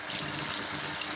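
Cold tap water runs steadily in a Thai laundry, a continuous close splashing rush with no breaks and no voices.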